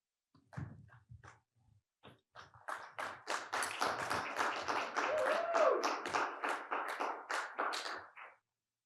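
Audience at a marketing conference keynote in Dubai breaks into sustained applause welcoming a speaker on stage, starting with a few scattered claps and swelling into a dense, steady round of clapping lasting several seconds before stopping abruptly.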